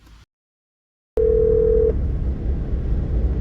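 On a phoned-in radio call, a single steady telephone line tone sounds after a brief cut to silence, then a low continuous line rumble carries on alone.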